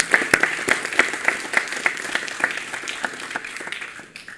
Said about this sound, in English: we thought we should give each other a round of applause for sharing the experience with us